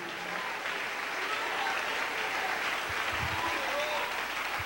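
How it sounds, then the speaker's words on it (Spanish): Sustained applause from a church congregation during a sermon, steady and full, with a few low thumps and scattered voices in the crowd. "Denle ese aplauso al Rey."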